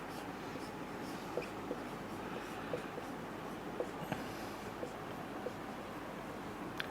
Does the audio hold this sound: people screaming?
no